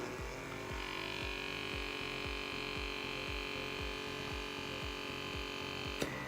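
A GOODSKY blackhead pore vacuum suction device runs with a steady electric hum and whine, overlaid by a regular pulsing throb repeating several times per second, close and continuous, ending with a brief click.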